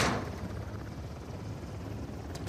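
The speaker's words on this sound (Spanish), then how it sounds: "Ahí está el helicóptero." Helicopter in the video game Uncharted: The Lost Legacy, a steady low rotor drone running continuously and fairly loud throughout, with a brief sharper burst near the end.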